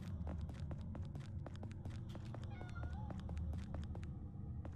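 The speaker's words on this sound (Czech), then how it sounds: "Je mňoukání koček" Cats meowing in the Wolfenstein Vendetta mod, several faint mews that rise and fall over a steady low in-game drone and scattered clicks.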